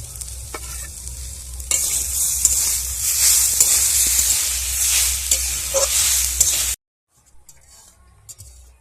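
A spoon stirs potato, salt and chopped chilli with bitter gourd in a frying pan. The sizzle is loud and close, scraping strokes recur for about seven seconds with light clinks, and then everything cuts to near silence.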